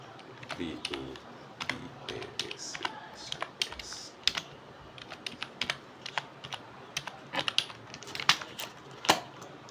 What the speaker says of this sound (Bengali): নাম লিখলাম, দেবাশিস দার নামে তৈরি করছি।